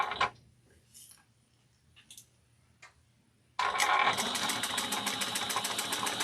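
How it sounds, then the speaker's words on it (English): A sewing machine runs steadily, top stitching a Nora bag with brown thread, its fast, even needle ticking close and loud after a few quiet seconds of small handling noises. "then we're going to top stitch at 1/4 of an inch"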